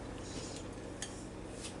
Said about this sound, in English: So we'll just stir that in there.